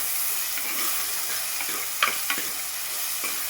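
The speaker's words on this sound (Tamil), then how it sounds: "சேர்த்து வதக்கிக்கலாம் கொஞ்சமாக தக்காளி வெங்காயம் வதங்க கல்லுப்பு சேர்த்துக்கலாம்" Tomatoes and onions sauté with rock salt in a pan for lamb leg gravy, giving a steady, loud sizzle with a few sharp stirring scrapes near the end.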